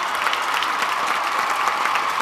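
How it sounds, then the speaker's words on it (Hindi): An audience at a stage show claps together in a loud, dense, steady burst of applause, close and sustained throughout. "ताली मारिए"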